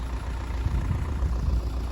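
An MTZ 80 tractor engine runs with a steady low diesel rumble, fairly close and continuous, as the tractor drives over wet, soft ground while hauling firewood.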